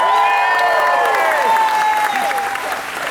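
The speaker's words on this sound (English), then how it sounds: "they'll applaud" An audience at Walt Disney World's Star Wars Weekends 2015 applauds during a conversation with Frank Oz, loud steady clapping mixed with whoops and cheers that fade slightly toward the end.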